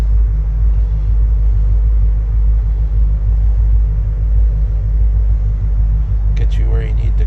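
A 1978 Chevrolet Suburban's engine idles after a cold start, a steady, loud low rumble that holds evenly throughout, close by and alone, with a short squeaky noise near the end.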